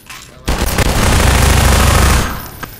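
A turret machine gun in Half-Life 2 opens up suddenly, blasting a loud, dense, sustained stream of rapid shots for about two seconds before cutting off, with a faint tail afterward.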